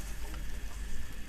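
Chicken green karahi simmering in a pan on a home stove just after water is added, a steady, loud, dense sizzle and bubbling that continues without pause and with no talking.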